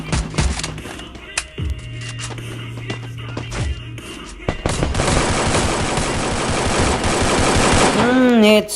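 Rapid gunfire bursts from a video game tournament final, loud and dense, building into a sustained volley with crackling shots and a rising tone near the end; a voice is heard calling out over the action.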